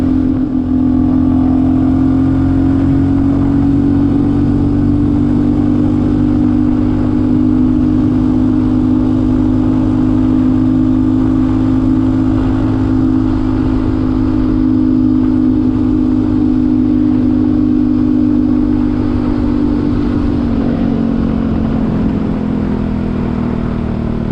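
Honda CT 142cc motorcycle engine pulling under throttle on a mountain road in Northern Thailand, a loud close steady drone that holds a high pitch for a long stretch before easing down toward the end.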